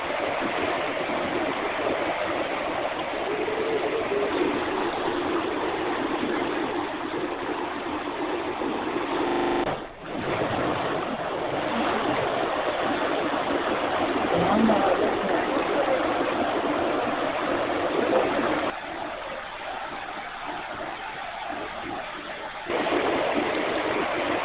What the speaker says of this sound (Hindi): पचवा दून क्षेत्र में यमुना नदी उफान पर है।